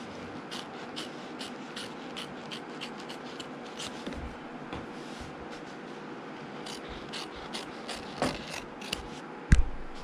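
Scissors trimming quilting fabric close to machine-embroidered stitching on a hoop block, a series of soft, crisp snips up close with quiet rustling between cuts and a couple of sharper clicks near the end.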